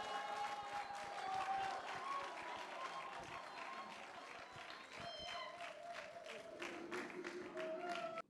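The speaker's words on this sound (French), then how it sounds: "je ne vous demande à nouveau d'applaudir maintenant que nous sommes assis" Seated audience at a film club screening applauding in a room, a fairly quiet, continuous patter of clapping mixed with voices and faint tonal sounds, ending abruptly.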